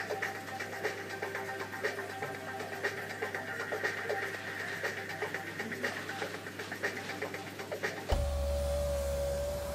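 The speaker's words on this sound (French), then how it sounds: "Je vais remonter la vitre." A car's electric power window motor whirs steadily as the glass is raised, a continuous close mechanical hum lasting about eight seconds before it stops.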